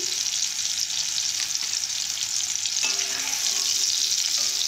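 Mango pieces fry in hot mustard oil, giving a steady, bright, close sizzle with a faint scrape or two of stirring partway through.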